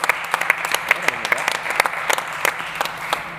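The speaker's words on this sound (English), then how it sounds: "Please give a warm round of applause to Alvaro Sagrario" A summit stage audience in Madrid gives a warm round of applause for an introduced technical director, continuous clapping with crisp, closely miked claps punctuating the wash.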